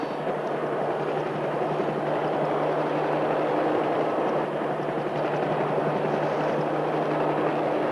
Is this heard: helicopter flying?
yes